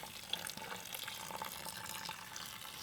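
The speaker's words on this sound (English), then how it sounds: "Then we're gonna add water, enough to cover these vegetables." Water runs and splashes into a pot of vegetables, enough to cover them for barbacoa, a faint, steady pour with small drips and clinks throughout.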